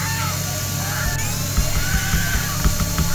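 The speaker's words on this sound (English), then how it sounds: "we're going power drill first" Power drill whirring in a video game, a continuous buzzing hum with rough bursts of grinding toward the end, loud and without talk.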